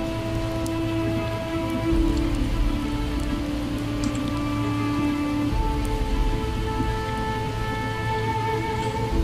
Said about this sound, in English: Get out of the rain or you'll catch your death.